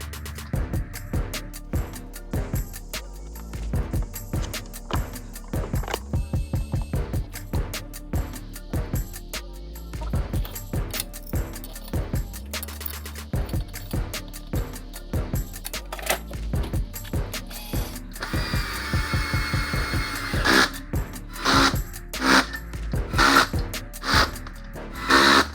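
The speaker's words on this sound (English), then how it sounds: "Now it's time to put the head down and torque it to spec." A torque wrench tightens engine cylinder head bolts to spec, giving off rapid, sharp metallic ratchet clicks in repeated bursts throughout, with a brighter, busier stretch near the end.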